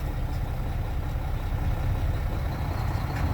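A truck idles in gear, pulling forward against the tractor brakes during an air leak test, giving a steady, loud, low engine rumble that holds even throughout.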